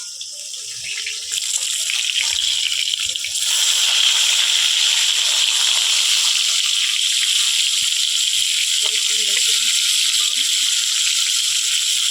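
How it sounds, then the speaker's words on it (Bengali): Rohu fish pieces frying in hot oil in a village kitchen: a loud, continuous sizzle with occasional light clatter, close by and without talk. "মাছগুলো বেশ লাল করে ভেজে নিয়েছি তো এবার তুলে নিচ্ছি"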